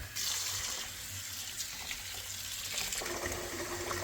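Running tap water splashing steadily into a sink, with rice being swished and rinsed under the stream; no talking.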